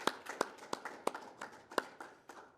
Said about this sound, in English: Can I please get a round of applause for our DPS Honor Guard?